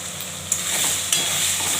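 Tomato, turmeric and salt fry in a pan with a steady close sizzle, while a spoon stirs through them with a couple of sharp scraping clinks.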